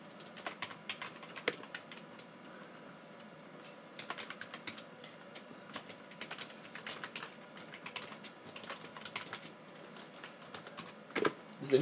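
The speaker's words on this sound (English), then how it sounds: "Anyway, you guys can see me typing." Rapid typing on a computer keyboard, with bursts of sharp key clicks in an irregular rhythm and brief pauses, close and fairly quiet against low room noise.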